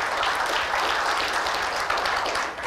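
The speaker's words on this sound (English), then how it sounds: "I just wanted to give another round of applause" An audience at a Joomla open source community event in Atlanta claps in a dense, steady wash of applause, many hands together filling the room without pause and no voices on top.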